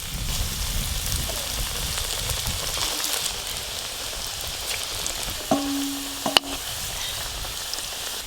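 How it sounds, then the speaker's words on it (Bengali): Potato snacks deep-frying in mildly hot oil: a soft, continuous bubbling hiss at moderate distance, broken near the end by a couple of sharp clinks. "হালকা গরম তেলে ভাজতে হবে এইগুলো।"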